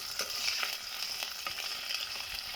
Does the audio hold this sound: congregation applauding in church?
no